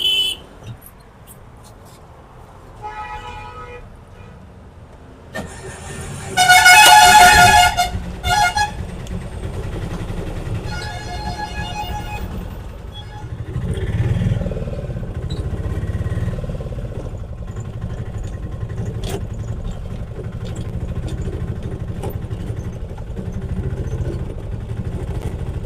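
A Mahindra Ape auto rickshaw fitted with new springs starts up and drives off. Its small engine runs steadily over about twenty-five seconds, with a brief loud horn-like burst near the start. The sound is close and fairly loud, with no speech.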